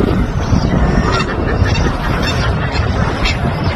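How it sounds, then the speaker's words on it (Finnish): Black swans calling beside the water, a dense chorus of honking, goose-like cries that keeps going steadily with many birds sounding at once over a continuous outdoor wash. "Siellä on ihan mustia joutsenia."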